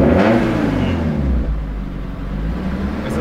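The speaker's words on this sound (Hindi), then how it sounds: "तो अभी गाड़ी को करते हैं फायर अप" A modified Maruti Gypsy fitted with a new performance snorkel, its engine running and revving up, a loud close rumbling drone with a rising whir that settles into a steady hum.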